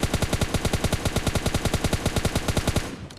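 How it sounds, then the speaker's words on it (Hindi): Rapid automatic gunfire from PUBG Mobile Lite rattles out in a loud, fast, even burst of about two dozen shots before stopping abruptly, with no voices. "पूरी की पूरी 60 गोली मैंने भर दी इस बंदे पे"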